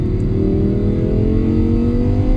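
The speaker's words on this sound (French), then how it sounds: "si vous descendez des vitesses, vous allez entendre le V10 qui se réveille" Audi R8 V10 engine revving on a downshift, a loud, steady close-up drone rising slightly in pitch, heard alone.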